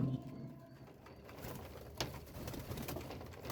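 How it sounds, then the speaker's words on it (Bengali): Domestic pigeons cooing softly at a pigeon farm, low repeated coos under faint chirps and light background movement, fairly quiet and close. "দেশি কবুতর বুনো কবুতর মাক্সি কবুতর লাল কালারিং কবুতর আর সবগুলো বাছাইকৃত কবুতর যে কবুতরগুলো এখানে আছে"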